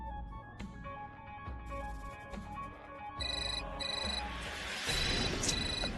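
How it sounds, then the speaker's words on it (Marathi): A mobile phone ringtone plays a repeating electronic melody indoors, loud and steady with no one speaking, in a Marathi TV drama scene. "फोन आहे यार."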